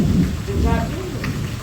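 Heavy rain pours steadily during a village thunderstorm, a dense continuous wash of noise with a faint rumble of thunder beneath it and a few brief tonal sounds in the mix.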